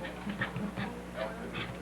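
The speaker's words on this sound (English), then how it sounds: "The dog wants to get in the show." A dog makes soft, high whimpers in several short, repeated bursts, fairly faint amid the murmur of a family anniversary gathering.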